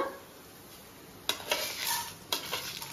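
Seasonings for an Andhra-style stuffed brinjal curry fry in a pan with a faint steady sizzle. A few sharp stirring scrapes break in near the end, close by, with no voices.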